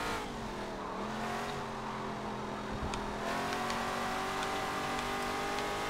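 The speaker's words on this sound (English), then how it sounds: "This is a Chevy Nova in the most revolting colour I could find." A Chevy Nova engine drones steadily in a classic street muscle car racing game, its pitch rising and falling with throttle over constant road and tire noise, loud and close.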